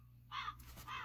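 A crow caws twice, loud and close, each call a harsh drawn-out rasp separated by a short gap, played as a sound effect over a quiet background.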